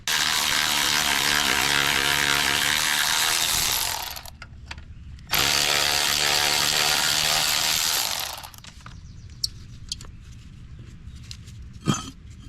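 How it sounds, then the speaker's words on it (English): A Milwaukee power ratchet removes 13 mm bolts on farm equipment, giving two loud, steady mechanical whirring bursts of about four and three seconds, followed by quiet clinks and handling noises. "I'm gonna use a Milwaukee ratchet."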